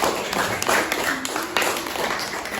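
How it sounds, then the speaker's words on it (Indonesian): A small group clapping for group 4 in a classroom session, a brief burst of moderate applause that carries on steadily for a few seconds, close by. "Beri aplaus untuk kelompok 4."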